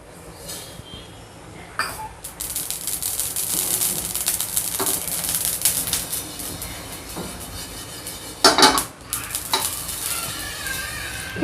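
Sesame and poppy seeds roast in a pan over a low flame, giving a continuous crackling sizzle. Louder bursts of scraping and rattling come from stirring, especially near the start and the end.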